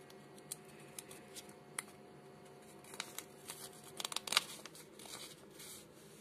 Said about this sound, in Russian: Открываем пакетик.